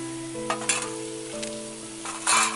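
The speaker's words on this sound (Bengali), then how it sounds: "এবার এই মশলাটাকে আমি হালকা কষিয়ে নেব।" Ground spices (chilli, cumin and coriander powder) fry lightly in a pan, giving short bursts of hissing sizzle and stirring over a steady tonal hum in the background.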